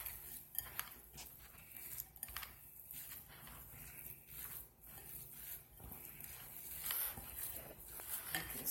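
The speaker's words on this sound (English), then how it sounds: "we're just gonna mix it all together." Crab cake mixture being mixed together in a bowl by hand, giving soft, irregular wet squelching and scraping with occasional utensil clinks, close by and steady throughout, with no talking.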